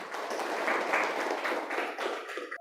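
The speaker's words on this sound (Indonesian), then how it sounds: "Tepuk tangan buat Farzan." Students clap for a classmate in a school classroom, a steady burst of close clapping that runs for about two and a half seconds and stops abruptly.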